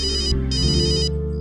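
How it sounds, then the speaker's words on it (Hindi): A phone ringtone plays loud and close, an electronic melody in two bursts over a low sustained tone, with no one speaking. "मेरे बॉस का फोन है।"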